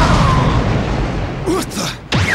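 Ships in the Asura's Wrath video game fire in a loud, dense barrage, a continuous rumbling roar of booms and blasts with a few sharper bursts near the end.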